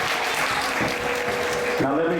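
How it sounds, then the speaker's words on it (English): An audience at a live performance claps in a thick, sustained patter, with a voice talking over the applause. "Please give her a big hand"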